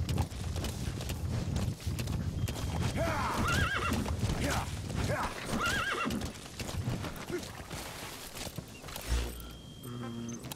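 Horse neighs and clip-clopping hooves in the video game Metal Gear Solid V: The Phantom Pain, loud and steady throughout, with a brief whinny midway and low game effects near the end.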